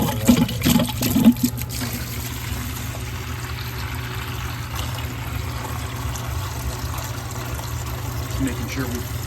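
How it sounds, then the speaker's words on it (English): Water gushes steadily through a Rinnai tankless water heater with a blocked heat exchanger and pours into a bucket while the system is flushed, a constant close rushing stream with brief clatter at the start. "I'm going to hold that in the bucket while I just barely crack my cold water inlet, this guy here, and let it push."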